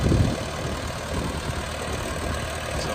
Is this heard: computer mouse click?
no